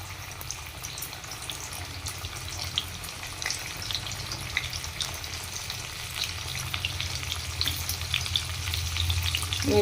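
Steady, close sizzling of pointed gourd coated in gram flour frying in oil, with occasional stirring scrapes, continuous and fairly loud with no talking.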